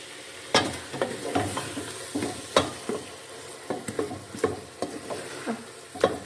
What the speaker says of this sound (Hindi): 1 टीस्पून नमक और इसको हम अच्छे से मिक्स कर लेंगे।